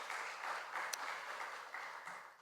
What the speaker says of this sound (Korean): 우리 교사 선생님들을 위해서 다시 한번 격려와 또 감사의 박수 부탁드리겠습니다